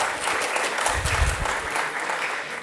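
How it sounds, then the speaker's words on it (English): A crowd at a metalworking museum in Tramagal claps loudly and continuously, with a brief swell near the middle and no speech over it. "You deserve a big applause."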